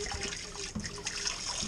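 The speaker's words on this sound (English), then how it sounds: "Push down on the knob there and your hot water comes out." Hot water gushes steadily from a push-down bottle rinser used to clean mead bottles before bottling, a continuous close splashing rush with small fluctuations and no talk.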